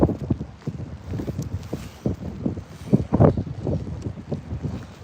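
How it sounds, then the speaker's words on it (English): Strong gusty wind buffets the microphone in loud, uneven bursts of low rumbling noise, with no voices, on a cold day at a cyclocross race in South Shields. "Apologies about the wind."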